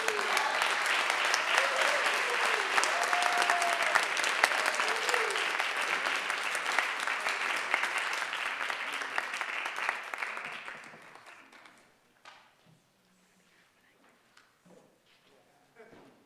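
An audience at an academic dissertation showcase applauds presenters with dense, sustained clapping for about ten seconds, then the clapping fades out, leaving a few scattered claps and faint room noise.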